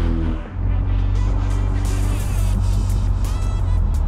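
A small 1.8-litre car engine drives along a country road, a steady loud interior drone with low rumble and road noise throughout, dipping briefly near the start before resuming evenly.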